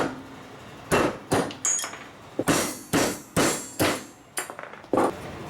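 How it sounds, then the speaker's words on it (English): A Powercraft 24-ounce hammer knocks out studs in a run of about nine sharp metallic strikes at irregular intervals. Each blow rings briefly, and the hits are close and loud. "I'm going to take my Powercraft 24-ounce hammer."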